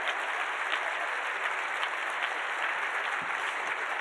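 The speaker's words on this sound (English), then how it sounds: "Can we get a big University of Minnesota School of Public Health round of applause?" A seated audience at a University of Minnesota School of Public Health event on food policy applauds in a steady, dense clatter of clapping that holds at an even level throughout.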